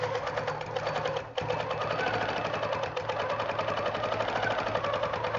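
A sewing machine quilting with a hopping foot runs continuously at steady speed, a dense, even mechanical chatter with one brief pause near the start.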